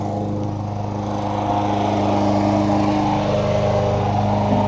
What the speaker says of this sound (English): I got my boy out there mowing the lawn today